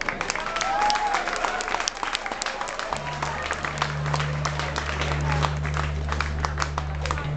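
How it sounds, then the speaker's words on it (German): Audience applause at a live concert, dense clapping filling the room for the full stretch, with a steady low hum entering partway through and a few faint voices beneath. "Applaus an euch"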